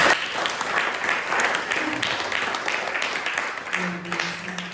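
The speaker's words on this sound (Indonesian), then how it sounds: "Tepuk tangan dulu, teman-teman." A church crowd claps steadily throughout, a dense continuous patter of applause at moderate volume, with a faint voice briefly audible underneath.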